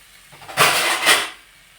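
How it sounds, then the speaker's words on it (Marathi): A metal lid goes onto a pot of salted water on a gas stove, making two quick clanking knocks close by, about half a second apart, against a quiet kitchen background. "झाकण ठेवते म्हणजे पाणी लवकर उकळेल"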